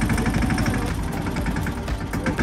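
A tractor engine runs at an outdoor ashram where cattle are being fed, a steady low rumbling idle that is close and continuous with no talk over it.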